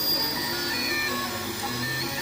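Home-built 3D printer for ABS and fairly large prints running a test print: a continuous close whirring hum of motors with shifting tonal whines, steady and moderately loud.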